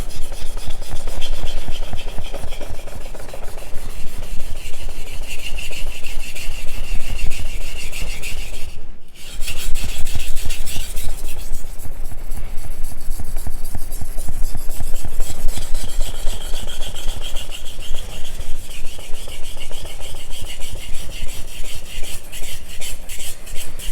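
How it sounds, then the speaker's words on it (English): A kitchen knife is sharpened on a coarse whetstone with continuous, even rasping strokes that scrape loud and close, with a brief pause near the middle before the steady grinding resumes. "So these coarser stones are really used to set the edge, set the apex."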